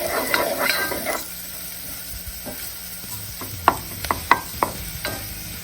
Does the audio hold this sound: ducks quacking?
no